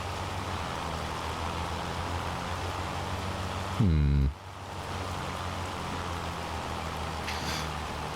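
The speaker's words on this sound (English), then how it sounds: "Is it because it's hail, not rain? Is that the problem?" Steady rain with hail falling in the farming game Farming Simulator 25, a constant even wash of noise, briefly interrupted by a low rising whoosh partway through.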